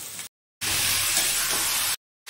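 Pieces of mutton sizzle and fry loudly in spice masala while being stirred in a pan for mutton kosha. A steady, close hiss runs between short gaps of silence, and no one speaks.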